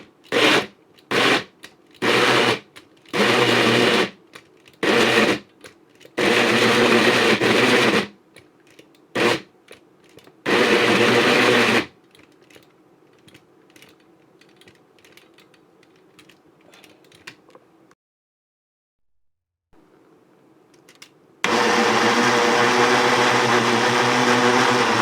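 A blender pulses a chicken or turkey mixture for homemade nuggets in a run of short, loud motor bursts, then a longer sustained whir after a quiet gap.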